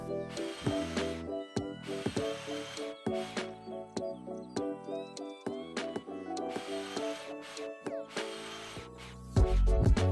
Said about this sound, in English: We then screwed the spacers into the joists of the deck.